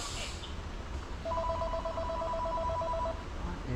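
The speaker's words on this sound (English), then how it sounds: "Are we going to answer the phone?" A telephone rings in a speed shop, a short electronic double-tone trill lasting about two seconds at moderate loudness above a low room murmur, with faint talk around it.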